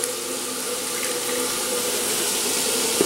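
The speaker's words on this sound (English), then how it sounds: "So now we're just gonna cover this with hot water" Hot water pours steadily into a pot holding baby back ribs and beef consommé, a continuous close rushing splash with no speech.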